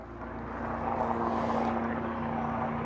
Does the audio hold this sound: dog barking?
no